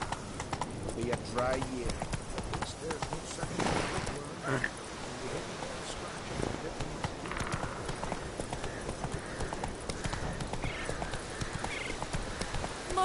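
Roach, the horse in The Witcher 3 Wild Hunt, trots with an even clip-clop of hooves and gives a brief whinny, and someone speaks over the hoofbeats.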